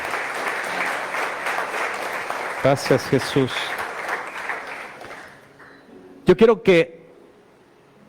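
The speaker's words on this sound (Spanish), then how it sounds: "Vamos a darle una ofrenda de palmas a Él." Church congregation clapping in a sustained round of applause while someone speaks, fading as a few more words are spoken.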